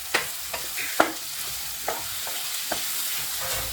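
Tomatoes and salt for a Malabar prawn curry sizzle and fry in a pan, with a steady broadband hiss broken by several sharp scraping stirs of a spoon, close and fairly loud, no voices.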